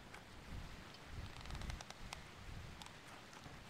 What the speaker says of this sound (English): I think it's raining right now